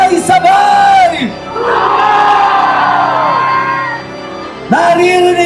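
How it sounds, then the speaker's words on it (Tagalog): Large crowd at a rally in Liwasang Bonifacio roars and shouts together in sustained loud swells, with a loud amplified voice calling out over them before and after. "ang Liwasang Bonifacio sumisigaw sabay-sabay!"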